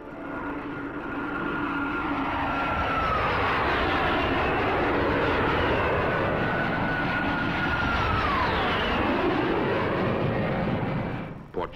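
NATO fighter jets of a Portuguese air squadron fly past in 1956 footage, giving a loud, sustained jet roar with whining tones that swoop down in pitch as the aircraft pass, fading at the end.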